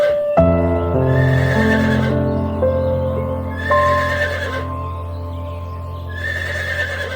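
A cartoon horse lets out a loud, drawn-out whinny that rises and falls, followed by another neigh and clip-clopping hooves, with no speech.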